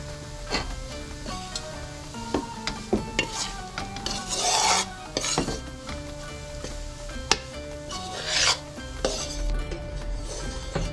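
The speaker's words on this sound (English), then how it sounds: "my daughter's gonna stir, keep stirring. Keep stirring that." A spoon stirs a milk mixture in a pot, making close, continuous scraping and rubbing with occasional light clinks against the metal.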